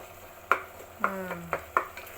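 Tomatoes are stirred and mashed in a frying pan, a soft background sizzle broken by four sharp scrapes and knocks of a utensil against the pan, with a brief squeak in between.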